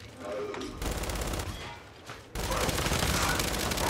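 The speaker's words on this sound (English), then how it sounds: "The Lancer GL, like, blind firing is so good." A Lancer GL rifle blind-firing in the video game Gears 5 rattles in rapid automatic bursts, loud and close, pausing briefly before a heavier, denser stream of fire resumes.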